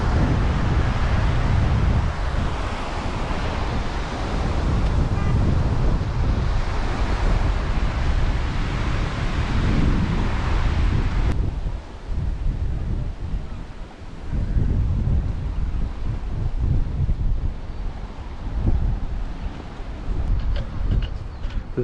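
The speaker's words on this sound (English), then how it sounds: "It is really windy." Strong coastal wind on the shore at Galway, Ireland buffets the microphone in loud, rough low rumbles, with surf-like roar behind it and no talk, easing slightly partway through.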